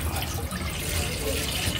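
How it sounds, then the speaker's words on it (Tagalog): Water is poured into a cooking pot while a Filipino dish is being prepared at home, producing a steady, moderately loud rushing splash that runs unbroken for nearly two seconds with no talk over it. "At saka ilagay na po natin itong tubig."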